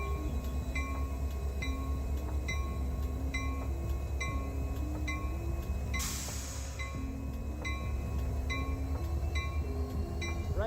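A Union Pacific freight train rolls past steadily, with a low continuous rumble and rhythmic clacking of wheels over rail joints, plus a brief hiss midway.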